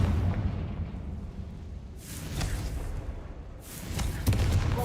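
Fiery Confringo blast spell exploding in a Harry Potter video game, two loud bursts with crackling, rushing noise over a steady rumbling game soundscape.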